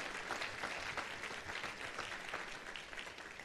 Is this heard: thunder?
no